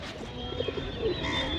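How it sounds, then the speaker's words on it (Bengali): Pigeons at Mirik Lake in the early morning, a few soft low coos heard nearby over light outdoor ambience, brief and fairly quiet. "আর এখানে অনেকগুলো পায়রা"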